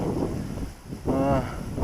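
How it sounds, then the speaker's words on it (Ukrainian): Gusty wind buffets a nearby microphone on the Inhul river during a fishing trip, in uneven roaring surges, dipping briefly before a stronger gust returns; a faint voice rises in the middle. "Знову сильний вітер здіймається, дивіться"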